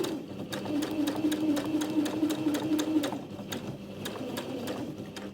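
A sewing machine staystitches along the cut edge of a fabric piece with a steady, rapid run of needle clicks. The stitching sounds close and continuous for most of the stretch.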